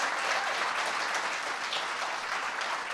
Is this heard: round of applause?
yes